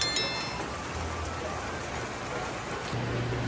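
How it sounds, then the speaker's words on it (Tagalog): Rain falling in Malabon, a steady, faint, even patter on surfaces with a low background rumble and no talking. "dito po ay halos ngayon lang po nag-uulan"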